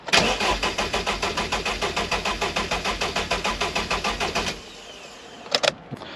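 MG TF 135 with a Rover K Series engine cranking on the starter motor: a steady rhythmic churning of repeated compression pulses for about four and a half seconds, then it stops without firing, followed by a few faint clicks.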